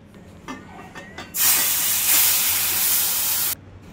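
Sugar syrup poured into semolina that has been fried in ghee for about 15 to 20 minutes bursts into a loud, steady sizzling hiss for about two seconds, then cuts off sharply. A few soft clicks come before it.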